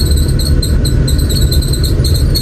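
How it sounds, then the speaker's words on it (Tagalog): A steady air conditioner drones in an indoor room, a loud continuous low hum with a faint high-pitched whine layered on top, no talking. "Yung ingay ng aircon mga inday"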